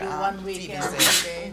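A single sharp sneeze in a meeting room, loud and brief near the end, with people talking just before it.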